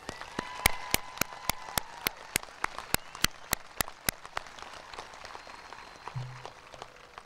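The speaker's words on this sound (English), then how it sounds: "please join me in giving them a round of applause." Sparse, crisp hand claps ring out in a slow, uneven rhythm from a thin audience at a high school graduation ceremony, with quiet room noise between them and a brief low rumble near the end.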